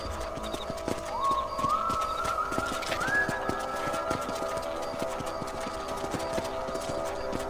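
Horse hooves clip-clop at a steady trotting rhythm in Red Dead Redemption on PC. The hoofbeats are close and clear, with a rising tonal sound layered over them.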